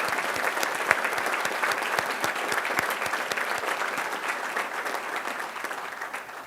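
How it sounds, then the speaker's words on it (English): Dense, steady audience applause fills the room throughout at a constant level, a sustained wash of many hands clapping with no talking over it. "And I think they deserve a great round of applause also."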